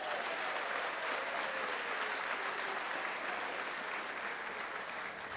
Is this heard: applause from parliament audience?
yes